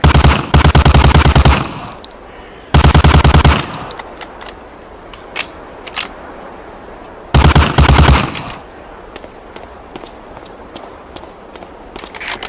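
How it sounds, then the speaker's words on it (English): Thompson submachine gun fired at a target in Medal of Honor Allied Assault, three loud bursts of rapid automatic fire separated by pauses, with faint clicks and footsteps in between. "Shoot that target 20 times with the Thompson."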